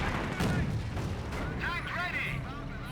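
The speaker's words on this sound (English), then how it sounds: "nice incendiary mortar" An incendiary mortar firing in the real-time strategy game Company of Heroes, during a Panzer Elite versus British match: muffled booming shots and crackling impacts over constant battle noise, with someone talking over the action.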